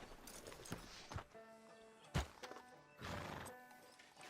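A horse in the video game Red Dead Redemption 2 whinnies faintly amid soft hoof clops and scattered game sounds, quiet and brief, with no talk.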